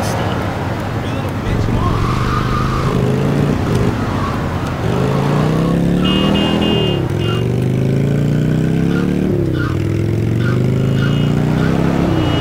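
A motorcycle in Grand Theft Auto Vice City Stories revs and accelerates repeatedly, engine pitch climbing and dropping through gear shifts, with game chatter and a voice talking over it.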